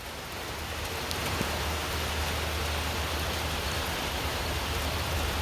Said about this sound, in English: we definitely got rain going on right now